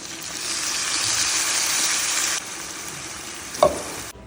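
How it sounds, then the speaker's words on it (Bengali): Water poured into a pan of frying fish, a loud steady hiss and sizzle that drops suddenly partway through, followed by a brief clatter and fading crackle, close by with no talking. "ভাজা হয়ে গেছে একটু পানি দিয়ে দিচ্ছি"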